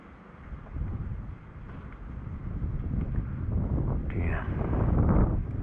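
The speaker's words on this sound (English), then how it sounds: "Oh, the wind is really strong up there again." Strong wind roaring and buffeting a microphone outdoors during pigeon and crow hunting, a steady low rumble that builds and gusts louder toward the end, with a voice speaking briefly.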